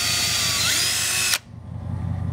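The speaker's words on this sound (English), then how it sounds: "We just pre-drill same way we did on the other side." A power drill pre-drilling screw holes into a wooden water wheel hub whines at high pitch, then stops abruptly, leaving a low hum.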